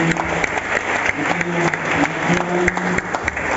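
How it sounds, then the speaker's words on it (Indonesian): Wedding guests applaud at a marriage ceremony, a steady wash of clapping lasting several seconds with a faint voice or music tone underneath. "Dan beri tepuk tangan sekali lagi."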